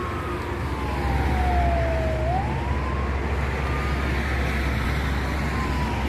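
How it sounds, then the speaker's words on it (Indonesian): An ambulance siren wails as it passes on a road, the tone sweeping and shifting pitch over steady traffic rumble, fairly loud and continuous with no talk. "Ini ambulan nih kawan-kawan, ya."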